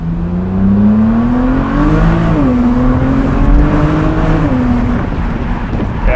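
A BMW E89 Z4 35i pulls hard in first gear on a bridge, its engine note rising steadily, dipping briefly at a shift point, then climbing again, loud and close throughout.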